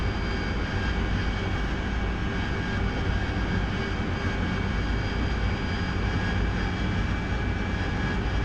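A steady, loud drone of an aircraft engine in the combat flight game DCS World, a constant propeller-like roar with a faint whine and no breaks.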